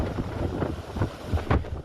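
Strong Scirocco wind gusts buffeting the microphone during an emergency of wildfires in the province of Messina, a steady low roar that surges in several louder bursts, with no voices.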